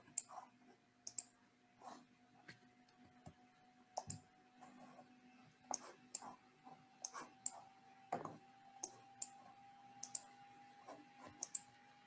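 Quiet, close keyboard typing at a computer, with scattered irregular bursts of key clicks and pauses over a faint steady hum.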